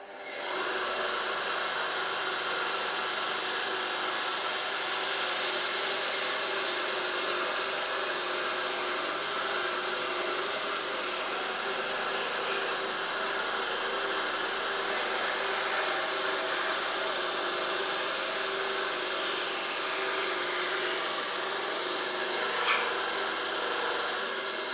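A bandsaw cuts through a wooden electric guitar body, producing a steady, fairly quiet whirring hum with a faint hiss that runs continuously with little change.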